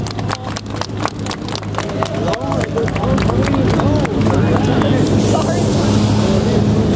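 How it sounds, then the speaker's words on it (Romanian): A crowd at an outdoor demonstration supporting the Bodnariu family case breaks into applause, dense clapping that builds and fills the scene, with a voice speaking over it. "Încă o dată aplauze"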